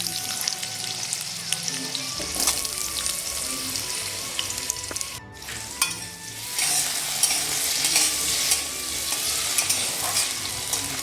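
Cut potatoes tossed into hot oil with dried red chillies and dried garlic for a leafy-greens fry, sizzling loudly and steadily while a spatula scrapes and stirs them in repeated strokes, with no talking.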